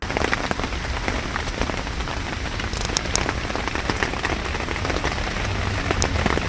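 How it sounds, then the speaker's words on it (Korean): Heavy rain pounds a tent pitched in a park, a loud, dense and steady patter of drops with no voices. "밤새 계속해서 비가 내리더니 마침내 물난리가 났습니다"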